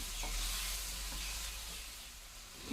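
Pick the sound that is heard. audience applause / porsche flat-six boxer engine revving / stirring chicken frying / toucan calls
stirring chicken frying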